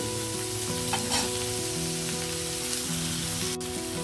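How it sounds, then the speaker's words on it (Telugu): Onion sizzling steadily in hot oil in a pan for a chickpea and chukka kura curry, a continuous crackling fry beneath background music. "డైరెక్ట్ ఆనియన్ వేసేస్తాను నేను ఆయిల్ హీట్ అయ్యాక"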